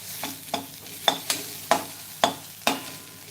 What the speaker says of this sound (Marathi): मिनिट दोन मिनिटभर आपल्याला हे मसाले चांगले असे परतून घ्यायचे आहेत